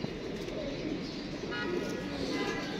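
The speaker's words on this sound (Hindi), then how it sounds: "ये कबूतर है" Soft pigeon cooing from a breeding pair in a low, steady murmur amid background noise, fairly faint.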